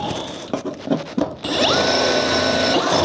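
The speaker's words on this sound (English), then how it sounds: "I'm gonna punch the holes through" A power drill punching holes through a flatbed trailer: a few short rough bursts of contact and scraping, then a loud, steady high-pitched drill whine running close up to the end.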